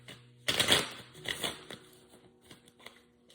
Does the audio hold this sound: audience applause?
no